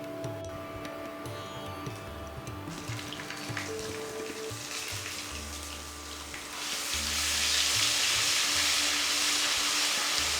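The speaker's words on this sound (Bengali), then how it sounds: "আদা বাটা দিয়ে কষাবো ততক্ষণ যতক্ষণ না আদার কাঁচা গন্ধ চলে যায়।" Ginger paste sautéing in a pan for a Bengali simai potol dish, a steady sizzle with low clattering that swells into a louder, hissing fry in the second half, no voices.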